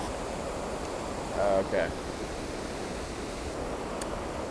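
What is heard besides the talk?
waterfall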